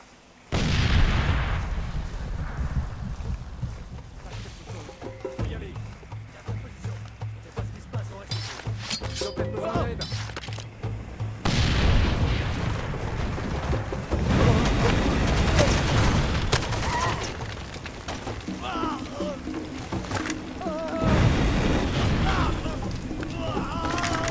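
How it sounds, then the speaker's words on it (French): A grenade explodes in the video game Far Cry 2, heavy booms and rumbling blasts over continuous gunfire and battle noise, with someone talking throughout. "j'ai lancé la grenade"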